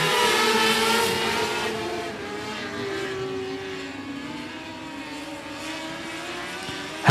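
Race cars roar around the oval at 105 Speedway, a loud, sustained engine drone that slowly falls in pitch as the field passes and fades slightly, heard from the stands without talk.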